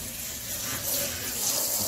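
Running water rinses a gas range hood filter after chemical cleaning, a steady close gush and splatter like a tap running into a sink, heard alone throughout.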